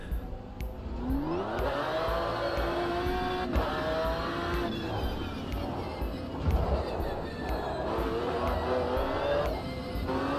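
A McLaren GT1 race car engine in a racing video game at the Nürburgring revs and shifts through gears, rising whining tones with quick drops, loud and continuous under a talking voice.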